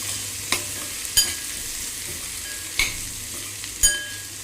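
A spiced dish with garam or goda masala cooks down in a pan toward dryness, giving a low constant sizzle broken by four sharp spoon knocks against the pan.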